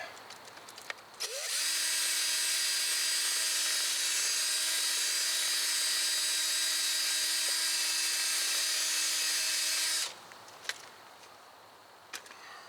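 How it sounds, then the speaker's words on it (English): A power drill spins a gun-cleaning brush inside the rear brake caliper bore of a 2017 Subaru WRX, giving a loud steady high whine for about nine seconds that starts and stops abruptly. "Alright, got the drill, cleaning brush, right down in here."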